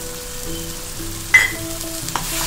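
Fenugreek powder and asafoetida hit hot oil in a pan for Tamil ginger thokku, giving a steady close sizzle with a sharp burst of crackle midway and light stirring scrapes after.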